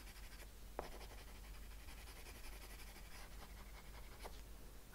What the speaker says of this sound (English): Now I'm using graphite pencil, which is just plain graphite.